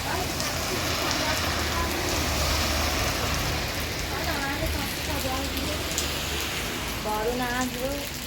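Heavy rain pouring steadily in a city, a loud constant hiss and patter throughout, with faint birdlike chirps showing toward the end.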